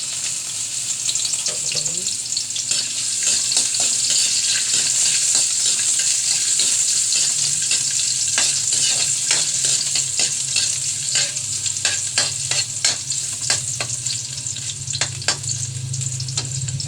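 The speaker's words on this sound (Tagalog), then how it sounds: "Gigisa ako ng sibuyas at luya." Ginger and onion sautéing in a pan for chicken in coconut milk with eggplant: loud, constant close-up sizzling with frequent spatula scrapes and stirring clatter, and a low hum underneath.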